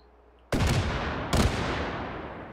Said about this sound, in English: to shoot it, you just press the trigger